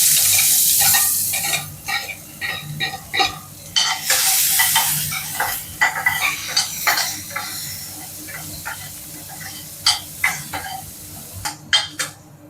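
Onions hiss and crackle in hot oil with urad dal in a pan, with a steady sizzle and repeated sharp clicks and scrapes of a spoon stirring, fairly loud and close.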